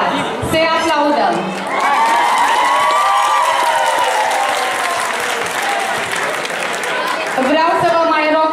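Audience applause with cheering and whoops for students at a school freshman ball, a loud, sustained burst of clapping and crowd noise lasting several seconds, with a voice speaking over it at the start and end.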